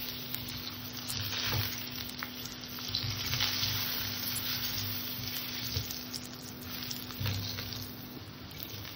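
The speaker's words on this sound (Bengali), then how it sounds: "আলু 2 পিসকে সুন্দর করে ভেজে নেব।" Two potato pieces fry in oil in a pan with salt and turmeric over a low gas flame, giving a steady soft sizzle with occasional pops, alone and without talk.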